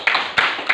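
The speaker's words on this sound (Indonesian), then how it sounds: "Ya, tepuk tangan." A short burst of students clapping hands in a classroom, three quick, close claps spaced evenly, with no talking over them.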